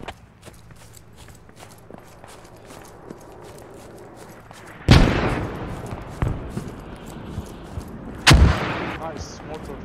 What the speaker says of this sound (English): Nice, mortars.